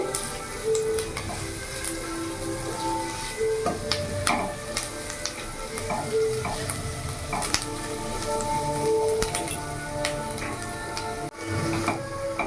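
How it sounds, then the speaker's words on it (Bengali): Chopped ginger and garlic fry in hot oil in a pan, giving a steady, moderate sizzle with occasional light clinks of a utensil. "কিছুক্ষণ একটু ভাজা ভাজা করে নেব,"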